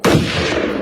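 A single loud, close gunshot cracks sharply and rings out into a lingering rumbling echo.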